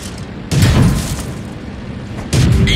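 Two heavy booming tank shell impacts in World of Tanks during a battle with a Churchill I tank, the first loud blast followed by a rumbling tail and a second equally strong boom near the end.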